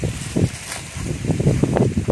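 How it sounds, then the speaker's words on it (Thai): Strong wind buffets a microphone outdoors beside a giant takhian tree, producing uneven low rumbling gusts that swell and drop continuously, loud and close, with no clear voices. "เสียงลมแรงมาก"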